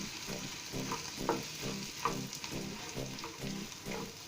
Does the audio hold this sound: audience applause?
no